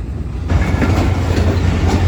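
The Awam Express passenger train, running between Peshawar and Karachi, rolls on its rails with a loud, close, steady rumble and rattling clatter that swells after a brief quieter start.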